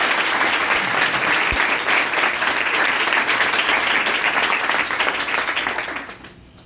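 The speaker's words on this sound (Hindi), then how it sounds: "एक बार अपने लिए भी ताली बजाओ" A room full of coaching-centre students claps loudly for themselves in a dense, sustained round of applause that stays strong before fading out near the end.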